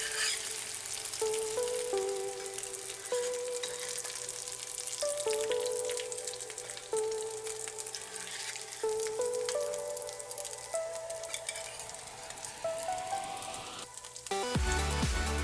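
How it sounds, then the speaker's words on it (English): Haggis sausage fries in a cast iron pan, a steady crackling sizzle with occasional spits and pops, fairly close and continuous, with faint tonal sounds in the background. "it was time now to fry up the rest of the haggis"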